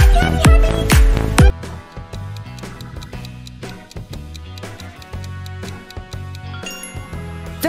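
Happy Cat meme sound: a bright, jingly musical tune with sharp plucked notes opening loudly, then settling into a steady bouncy melody, alone without talk.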